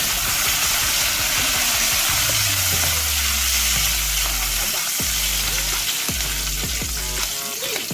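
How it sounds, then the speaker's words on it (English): Curry leaves and browned garlic splatter loudly in hot oil for a crab sukka, a dense, continuous sizzle and crackle close up, with a low rumbling hum underneath and no talking. "Just add these curry leaves. It's going to splatter a bit."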